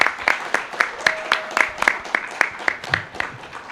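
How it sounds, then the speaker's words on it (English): A small conference audience claps in a sparse, rhythmic way, with individual claps standing out at a steady pace rather than a dense roar. "I'd like to give a round of applause to these guys"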